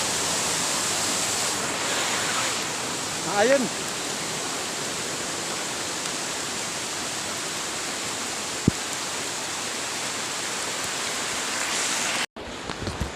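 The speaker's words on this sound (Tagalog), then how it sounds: "Grabe talaga yung ganda ng falls na to." Constant broadband rush of a waterfall fed by heavy rain, steady and fairly loud throughout, with a brief faint voice and a couple of small knocks over the roar before it cuts off abruptly near the end.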